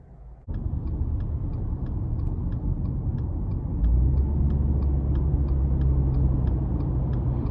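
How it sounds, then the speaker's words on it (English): A 2021 Subaru Impreza Premium hatchback with a 2.0 engine drives on the road, giving a steady low engine and road rumble after a brief quiet start, with a deeper drone building midway. "take this 2021 Impreza Premium out on the road for a test drive"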